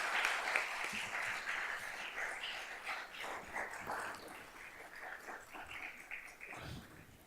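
Steady applause from a seminar audience on urban law, continuous clapping filling the room at moderate level throughout, with brief louder bursts and no talk over it.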